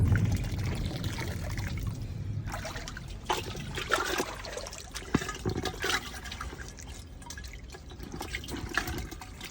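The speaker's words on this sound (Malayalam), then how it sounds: "ഇപ്പം വെള്ളം കളയുകയാണ്." Water pours and trickles out of a pot fish trap lifted from the water, uneven splashing and dribbling with a few sharper drips, close and fairly quiet.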